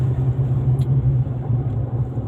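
Low, steady engine rumble heard from inside a moving truck on a road in the Philippines, droning close and even throughout with a brief faint high click.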